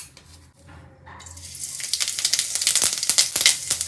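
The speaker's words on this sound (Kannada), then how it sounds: "ಸೊ ಇವಾಗ ಎಣ್ಣೆ ತುಂಬ ಕಾದಿದೆ. ಇವಾಗ ಸಾಸಿವೆ ಜೀರಿಗೆ ಹಾಕ್ಕೋತೀನಿ." Mustard seeds and cumin drop into very hot oil, starting quietly with a clink, then breaking into a loud, crackling sizzle with sharp pops and spatters that builds and continues close by.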